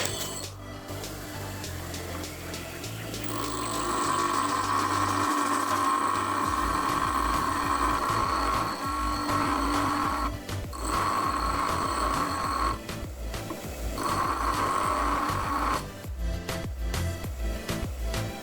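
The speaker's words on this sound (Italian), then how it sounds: "Inizialmente utilizzo la mola, così faccio più veloce." Bench grinding wheel grinding down an old milling cutter to make an octagonal tip, a loud whirring motor hum with repeated pulses of harsh grinding as the steel is pressed against the wheel, near and without voices.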